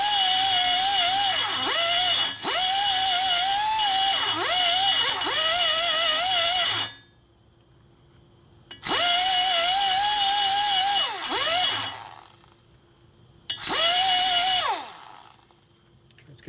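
A rotary cutter grinds into the ports of a Harley-Davidson Twin Cam cylinder head from a 2006-or-later Dyna, a loud, close, high whine in repeated bursts with short pauses and brief dips in pitch.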